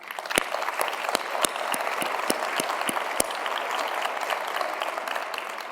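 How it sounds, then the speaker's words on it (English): A conference audience applauding steadily, with a dense wash of many hands clapping and a few sharper individual claps standing out, heard at a moderate distance without talk. "Let's give them a round of applause"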